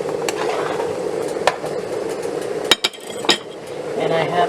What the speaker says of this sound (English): You just pretty much stir that all in.